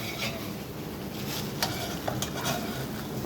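Beaten egg goes into a hot pan of garlic and vegetable fried rice, giving a steady close sizzle under brisk stirring, with a few sharp utensil clicks against the pan.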